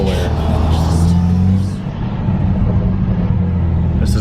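Nissan Sentra SE-R Turbo X car engine rumbling low and steady while driving in highway traffic on a long road trip, a continuous close drone with a brief dip midway.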